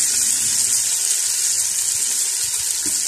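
Onions hit hot oil in a pan for a pumpkin, pea and mutton curry, giving a constant loud hiss and sizzle, close and steady throughout with no talk.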